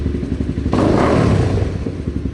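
A 2015 Honda CRF250L motorcycle starting on its electric starter: a short cranking whir catches into a loud, close engine burst, then settles into a steady, rapid idle thrum.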